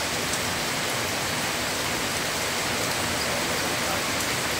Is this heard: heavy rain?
yes